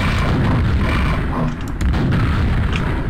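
Loud rocket launcher blast in a zombie invasion video game, a heavy rumbling boom that fills the space with dense low-end roar, followed by brief crackling debris.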